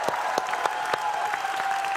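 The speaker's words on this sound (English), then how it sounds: "So give yourself a round of applause." An audience claps loudly and steadily at a closing ceremony, dense and sustained applause filling a large hall, with faint crowd noise underneath.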